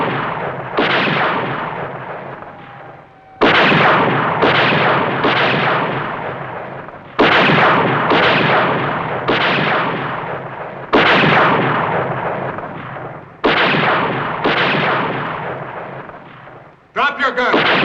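Heavy gunfire booms out in a series of loud, close blasts, each followed by a long decaying rumble, about eight of them in steady succession, ending with a brief clatter.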